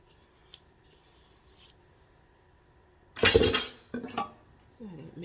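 A utensil scraping brownie batter off a bowl, a short burst of rasping scrapes and clinks after a quiet stretch, with a few softer follow-up strokes and a voice talking.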